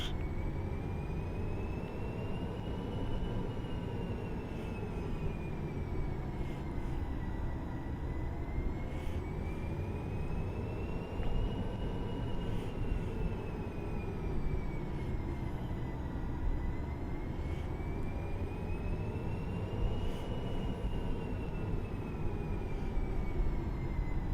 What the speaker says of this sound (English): you can hear that auto throttle working overtime